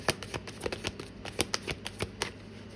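Tarot cards are shuffled by hand, making a quick series of soft, crisp card slaps and riffles at close range, quiet and without talk.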